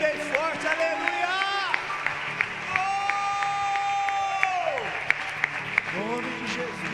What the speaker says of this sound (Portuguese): dá mais um aplauso a Ele bem forte, aleluia.